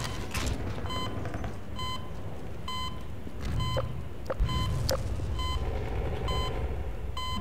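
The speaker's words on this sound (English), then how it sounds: "Beeping." Regular electronic beeps repeat in the Half-Life 2 video game, a steady rhythmic series of short tones over game ambience and mechanical creaks, with no one talking.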